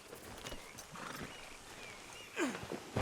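A horse in Red Dead Redemption 2 clip-clops along with steady hoofbeats, then gives a sharp whinny near the end, close and fairly clear with no talk over it.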